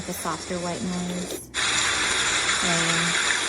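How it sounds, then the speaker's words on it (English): Soft, steady white noise from a Dreamegg portable noise machine fills the whole clip, with a voice briefly talking over it near the start and again toward the end. "With a softer white noise."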